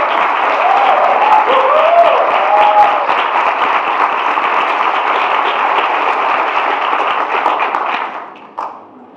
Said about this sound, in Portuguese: minha companheira Olga, a quem eu peço uma salva de palmas, por favor.